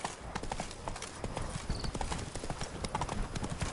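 Roach the horse trotting in The Witcher 3, a quick, even clip-clop of hooves on hard ground, fairly faint and steady throughout, with a brief spoken word over it.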